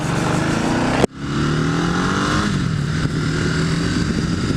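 Ducati touring motorcycle with about 150 horsepower accelerating hard on the road, engine note climbing steadily after a brief shift gap, loud, close and continuous with wind rush.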